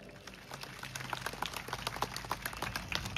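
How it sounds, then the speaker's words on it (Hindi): Hall audience at a political speech applauds the event organisers, scattered clapping that builds into louder, denser applause, with a faint low hum underneath. "मन ले जोरदार तालियां मानिकला"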